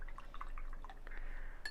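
A watercolor paintbrush swished and rinsed in a water jar, giving soft close-up drips and liquid sloshes over about two seconds, with no talking.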